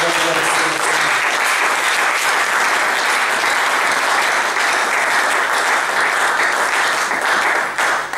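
A church congregation applauds loudly and continuously, a dense wash of clapping that fills the whole space without pause, with voices mixed in.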